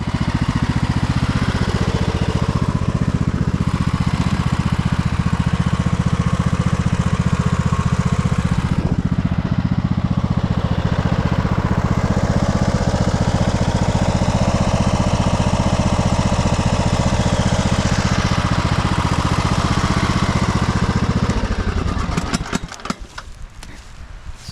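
A Toro Timecutter Z4200 zero-turn lawn mower with a bagger attached runs steadily at close range, its engine drone loud and continuous for most of the time before cutting out near the end.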